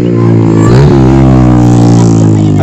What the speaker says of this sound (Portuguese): E tem vindo uma moto para atrapalhar a minha gravação